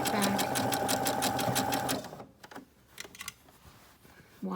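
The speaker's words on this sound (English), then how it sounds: "Stopping, making sure the needle's down, pivoting as I go around that curve, around the neckline" A sewing machine stitches appliqué around a garment neckline in rapid rhythmic bursts that stop and start as the fabric is pivoted, with brief pauses between runs.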